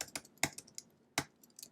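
Keys on a computer keyboard are tapped while someone is coding, a quiet, uneven patter of separate clicks with short pauses, heard up close with no voice.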